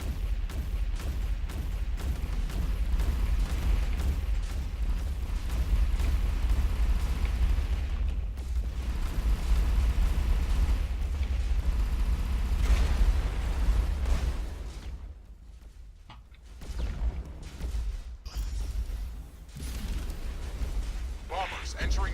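Missile strikes from the video game X Morph Defense boom in dense, overlapping blasts with a heavy low rumble, holding steady before thinning into a gap and then building up again.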